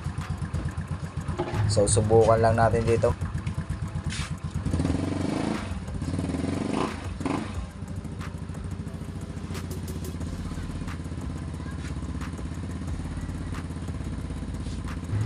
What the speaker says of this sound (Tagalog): napaandar na natin yung motor. So yan, umaandar na